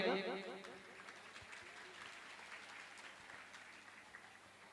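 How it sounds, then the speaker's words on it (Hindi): A crowd at a village Ramcharitmanas devotional music festival claps in a scattered, sustained patter after a brief loud voice at the start. The applause carries on softly at a moderate distance. "एक बार जोरदार और ताली बजाइएगा।"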